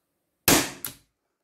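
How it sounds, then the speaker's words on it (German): A Walther PDP Compact T4E CO2 air pistol fires a single sharp, close crack, followed a moment later by a second, shorter snap, then silence. "Nächster Schuss."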